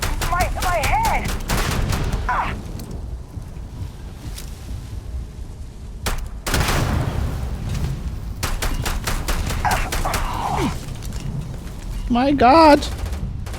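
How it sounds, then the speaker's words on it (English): Rapid gunfire in a modded Skyrim video game: bursts of shots and volleys crackle repeatedly through the scene, mixed with other game effects, while someone shouts and exclaims over them. "They're shooting me from everywhere."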